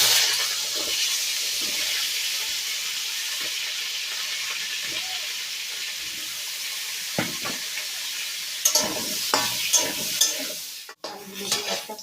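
Potatoes frying in a pan while cauliflower kaliya is cooked, a steady soft sizzle running throughout, with a few clinks and scrapes of a utensil against the pan near the end.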